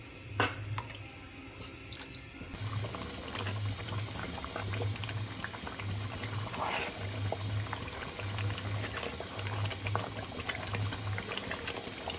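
Water boils in a pan while suji halwa cooks, a faint, continuous bubbling and simmering with soft popping and crackling close by.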